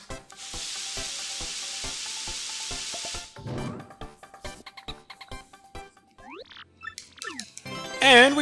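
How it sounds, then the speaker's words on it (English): In Paper Mario: The Thousand-Year Door, an Ultra Shroom being cooked gives a loud, steady sizzle over a ticking rhythmic beat, followed by quick cartoonish boings, sweeps and a bright chiming jingle at the end. "now I'm gonna cook the Ultra Shroom I just got"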